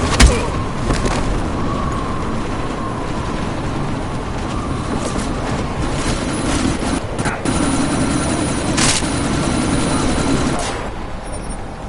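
A helicopter in the Deus Ex video game churns as a steady, dense rotor and engine roar, loud and continuous throughout, with wind-like noise and a few faint bursts mixed in.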